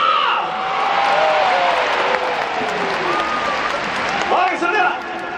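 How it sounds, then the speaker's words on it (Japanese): A crowd inside Sapporo Dome at a Fighters versus SoftBank baseball game claps and cheers in a broad, continuous roar, with occasional whoops rising above it before it eases off near the end. "今日の試合皆さんの歓声で盛り上げていきましょう"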